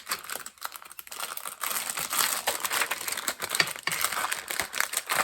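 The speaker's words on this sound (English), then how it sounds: "Sorry for the rustling." Plastic and paper packaging crinkles and crunches nonstop while a parcel of happy mail, including polymer clay items, is unwrapped up close, with busy irregular rustling bursts and no talking.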